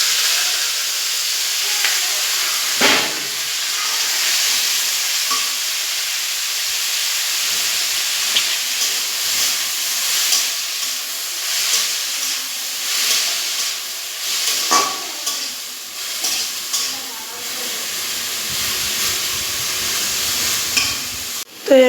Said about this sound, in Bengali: পেঁয়াজ দিয়ে কাঁচা লঙ্কা দিয়ে ভাজবো।